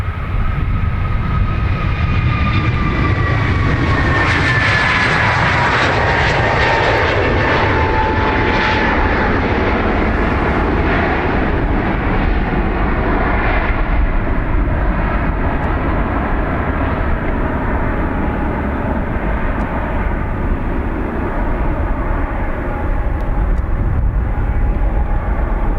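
An aircraft at Dublin Airport's north runway on a wet day, a loud jet engine roar with a high whine that slides downward early on, then a steady heavy rumble lasting throughout without talk.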